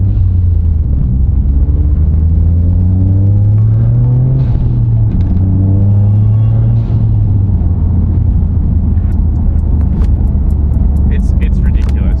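Toyota GR Yaris with an ECUtek tune, engine and exhaust droning loudly with rising and falling harmonic sweeps as it accelerates and eases off, sustained throughout, with a raspy edge and occasional crackles near the end.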